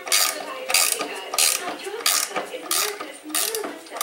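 A ratchet wrench clicks back and forth in steady strokes, close up, while removing a trailing arm bushing from a 1968 Triumph TR250, with rhythmic ratcheting pulses and faint creaks between them.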